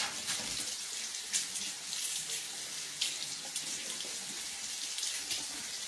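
Green onions are washed under a running kitchen tap, a steady close stream of water splashing into the sink, with small clatters as the stalks are handled and no talking.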